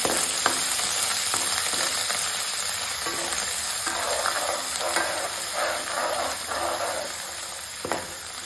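Garlic paste with ginger-chili paste sizzles steadily in a hot pan while being sautéed for spicy Surti Mysore bhaji, with occasional stirring scrapes over a constant frying hiss.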